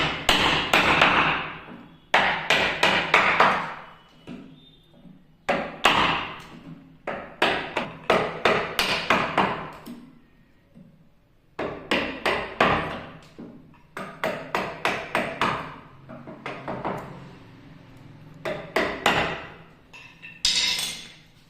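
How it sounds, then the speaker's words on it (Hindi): Hammer strikes on a chisel squaring up a round hinge recess in a wooden wardrobe door, sharp close taps coming in rapid bursts with short pauses between them, no voices. "बटाली और हथौड़ी की मदद से।"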